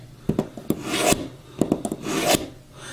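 A knife blade drawn through a sharpener, taking metal off as it goes: short gritty rasping strokes in quick pairs and longer scraping pulls, close and clear with no voices.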